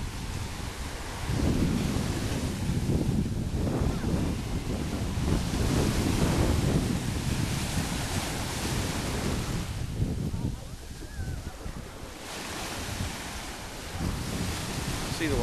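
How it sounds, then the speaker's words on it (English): Surf breaking on a beach at Okaloosa Island near the pier, with steady wind buffeting the microphone, loud washing waves rising and falling across the scene. "Waves have picked up a little today."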